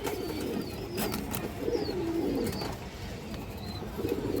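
A pair of pigeons, one male and one female, coo in low repeated calls close by over a steady background, with a few faint higher chirps now and then.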